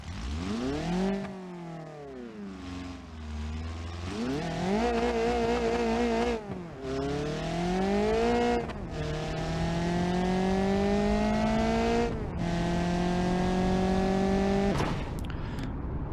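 A nitrous-boosted car in BeamNG.drive roars through a long hard run, its engine climbing in pitch through several loud gear changes, with a sharp cutoff at the end.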